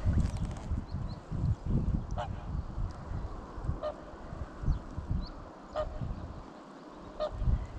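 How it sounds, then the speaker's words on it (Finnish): Goose-like honking calls from a bird near a pond come in short repeated bursts, moderately near, over rustling and movement sounds, with quiet talk in places. "On se hieno lintu."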